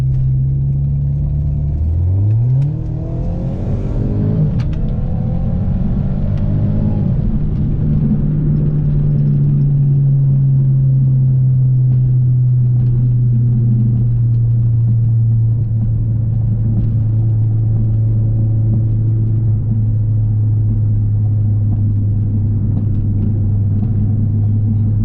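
An Audi car's engine runs steadily as the car drives off, a loud, continuous low drone with a brief rising rev near the start, then an even hum throughout.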